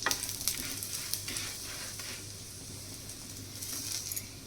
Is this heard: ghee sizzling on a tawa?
yes